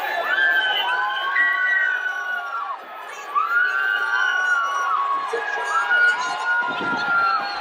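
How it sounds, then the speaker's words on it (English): A crowd of fans at a London film premiere shouts and cheers excitedly as a lead actor arrives, with high voices and shrieks rising and falling continuously throughout, loud and close. "It was obvious when the actor playing the main character arrived because everyone went nuts."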